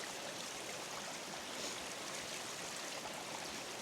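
Natural mountain streams run down the hillside above the Dare Valley, a faint, distant, continuous watery rush with no voices over it.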